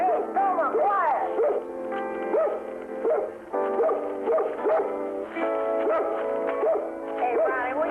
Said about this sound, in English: Ronnie, will you keep that dog quiet?